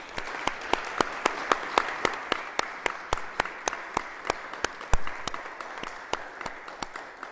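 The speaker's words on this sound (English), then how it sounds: "Let's give our flood preparation team in Sandy a big round of applause." A crowd applauding steadily, a dense wash of many hands clapping with sharper individual claps standing out, sustained throughout without any voices.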